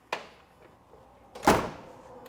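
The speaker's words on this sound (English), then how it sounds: "Door closes real nice." A 1965 Ford Mustang Fastback door shuts: a faint click or latch touch comes first, then a single solid, close thump with a short decay.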